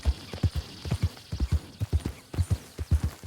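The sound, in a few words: zebra hooves clip-clopping in video game Red Dead Redemption 2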